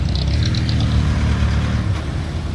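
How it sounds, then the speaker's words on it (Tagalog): Steady low rumble of road traffic on a flooded, risky highway beside rice fields in Camarines Sur, engines droning close and continuous with no talk. "Traffic na traffic."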